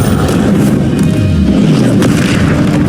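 Confringo spell blast in the video game Hogwarts Legacy, a loud booming explosion with a deep rumbling tail that fills the whole moment, heavy and close.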